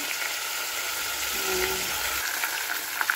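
Pork chop frying in hot oil in a home kitchen, a continuous close sizzle with scattered sharp pops of spattering grease and a brief low clatter partway through.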